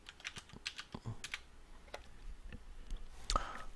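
Faint, close clicking of fingers typing on a computer keyboard, a quick irregular run of soft keystrokes ending in one louder tap, with no talk.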